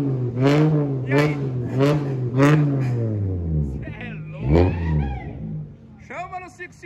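A VW Jetta 2.5 five-cylinder revs in a series of rising and falling engine pulls, loud and close, with people talking and exclaiming around it.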